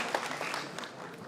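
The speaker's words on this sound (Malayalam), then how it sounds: "ഒന്നൊന്ന് വലിയൊരു കൈയടി കൊടുത്തു കഴിഞ്ഞാൽ അദ്ദേഹം പാടും" An audience at a Malayalam film poster launch claps, a fairly quiet, even patter of hands that runs steadily for the whole moment without a clear peak.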